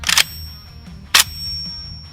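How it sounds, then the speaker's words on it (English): Two sharp metallic clanks from a 6.5 Grendel AK rifle being charged, each followed by a thin, sustained ringing tone from its M76-style flash hider that lingers between them. "M76 style flash hider, which is why you get this ringing."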